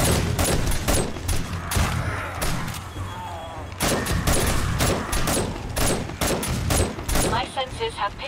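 Dense, continuous bursts of automatic gunfire in the game 7 Days to Die, loud and close, firing in long strings with brief gaps, with a voice faintly underneath.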